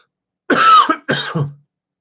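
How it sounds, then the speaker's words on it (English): Two dry, harsh coughs close to the listener, one right after the other, with silence around them and no talking. "It is a dry cough as well."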